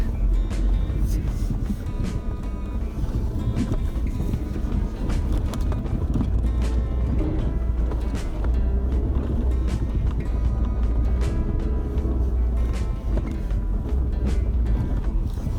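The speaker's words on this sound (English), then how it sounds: "And this is real off-road, driving into virgin terrain where no one has driven in a long time, if ever." A Suzuki Vitara 4x4 with All-Grip four-wheel drive pushes off-road through fresh, untouched snow, its engine a steady close rumble mixed with constant crunching and rattling from the wheels and body, continuous throughout with a faint voice now and then.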